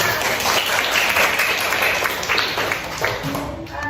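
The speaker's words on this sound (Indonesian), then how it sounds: "tepuk tangan buat semuanya" A school class claps together in a classroom, steady dense applause lasting several seconds and tapering off at the end, with faint voices mixed in.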